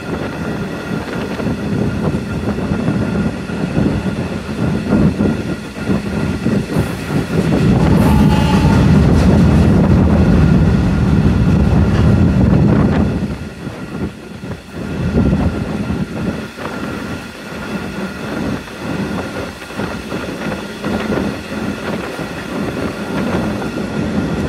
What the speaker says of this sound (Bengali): আমাদের ট্রেনটি এখন Srinagar railway station through pass যাচ্ছে